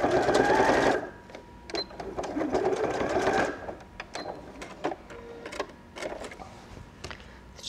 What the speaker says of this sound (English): you can stitch through it like butter. It really doesn't offer any resistance to your needle.